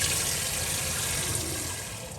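Sticky rice is rinsed in water in a pot, water swishing and pouring steadily, a continuous rushing wash that slowly fades toward the end.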